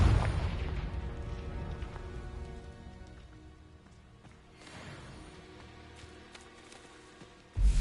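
A Confringo explosion spell in the Hogwarts Legacy video game goes off as a loud rumbling blast that fades, with a second swelling burst midway and a sharp hit at the end.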